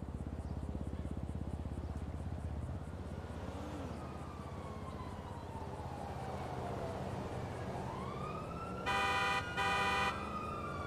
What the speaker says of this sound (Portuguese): a ambulância tá chegando aqui já